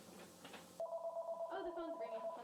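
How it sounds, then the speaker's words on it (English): A telephone ringing with a steady electronic trill, close and fairly loud, starting abruptly after a moment of room noise. "the phone's ringing"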